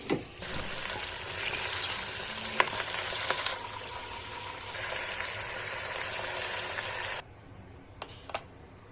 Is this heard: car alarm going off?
no